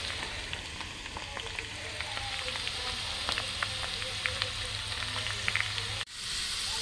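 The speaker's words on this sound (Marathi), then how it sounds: "म्हणजे असं खरपूस रंग होईपर्यंत ते का तेलात भाजायचं" Prawns fry in hot oil until golden, a steady, soft sizzle with small crackling pops, ending in a sudden clunk near the close.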